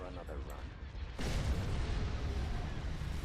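Iron cannons firing during a space battle in Star Wars Thrawn's Revenge, a quieter passage giving way to a sudden loud, sustained roar of booming fire. A voice is heard talking briefly at the start.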